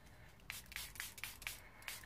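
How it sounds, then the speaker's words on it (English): A handheld spray bottle spritzes water over a card in quick, faint bursts, about six pumps in two seconds, close and quiet. "I'm just going to use my spritzer and I'm just going to spritz over"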